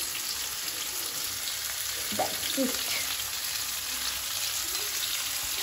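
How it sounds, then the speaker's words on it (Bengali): Pumpkin pieces frying in hot oil with salt and turmeric, a steady close crackling sizzle that runs evenly throughout, with a couple of faint scrapes of stirring partway through. "কুমড়োটা তেলে দিয়ে দিলাম অ্যান্ড এবার নুন হলুদ দিয়ে ভেজে নেবো"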